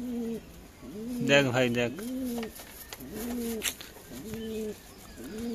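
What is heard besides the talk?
pigeons cooing in a coop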